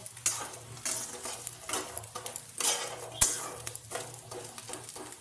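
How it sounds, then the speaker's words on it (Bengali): Maggi noodles being stirred with egg and water in a pan, with a spoon scraping and clinking against metal over a light sizzle, close and fairly loud, with a few sharper knocks. "একটুখানি নেড়ে নিলাম"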